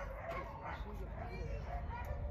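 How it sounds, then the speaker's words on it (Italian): Many dogs near Lake Molveno in Trentino yip and bark from somewhere far below, faint and continuous beneath a person talking nearby. "Ci sono tantissimi cani."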